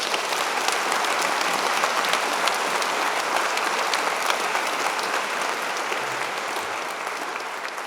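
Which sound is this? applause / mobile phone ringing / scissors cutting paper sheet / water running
applause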